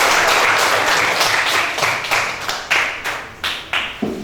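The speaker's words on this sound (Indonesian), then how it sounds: "berikan tepuk tangan yang meriah" An Indonesian classroom applauds, starting as a full burst of many hands, then thinning into a few distinct, rhythmic claps near the end of the applause.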